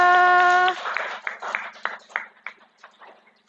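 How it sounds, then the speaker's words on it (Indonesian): Children in a classroom clap for a classmate: a brief held vocal tone gives way to a burst of claps that thins into scattered, fading claps. "Tepuk tangan untuk Mbak Salsa."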